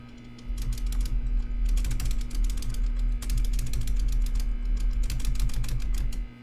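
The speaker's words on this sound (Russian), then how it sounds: "Я думаю, ты слышал мою клавиатуру." Fast, continuous clacking of a computer keyboard, keys pressed in rapid bursts with short pauses, close and loud over a low steady hum.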